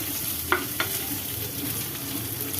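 Finely chopped onion and grated carrot sauté in a hot pan for kuli paniyaram, a steady soft sizzle with a couple of brief scraping stirs near the start.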